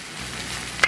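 Bacon and egg fried rice with pork belly sizzles steadily on a hot BBQ cooktop as it is stirred, a brief close clatter cutting in just before the end.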